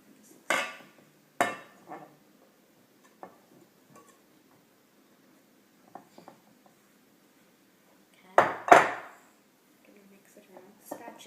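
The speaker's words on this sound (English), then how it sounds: "it's easier just for me to hand mix it" Dry ingredients being mixed by hand into a thick iced pumpkin cookie dough in a bowl. The stirring gives intermittent, sharp scraping knocks and taps close by, in sparse clusters separated by quiet pauses.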